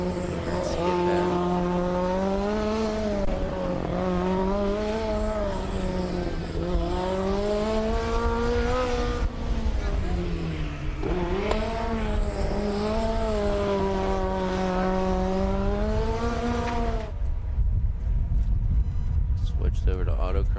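A Formula SAE race car lapping the skidpad at a 2024 dynamic event, its engine note holding a loud, steady high-pitched drone that rises and falls in repeated sweeping waves as it circles, before cutting off near the end.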